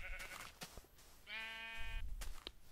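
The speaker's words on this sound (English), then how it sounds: "Come here, sheep." A sheep bleats in the Minecraft video game, with one clear, sustained, tonal baa in the middle amid quieter game sounds and faint bleats at the start.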